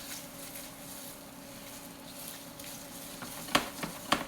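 Tomato puree cooking over low heat in a pan, a quiet continuous simmer with faint scraping from stirring and a few sharper utensil knocks near the end, no talk.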